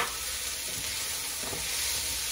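Asparagus added to a hot pan sets off a loud, steady sizzle with a brief stirring scrape midway, heard up close with no one talking.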